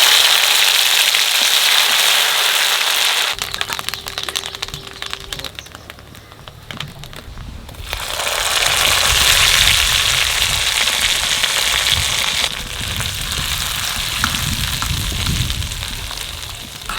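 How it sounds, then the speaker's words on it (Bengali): Panch phoron and dried chilies crackle and sizzle in hot oil for khichuri, a steady loud hiss that dips briefly midway and swells again, with no talking. "তেলের পর দিয়ে দেবো 5 ফোড়ন আর শুকনো লঙ্কা।"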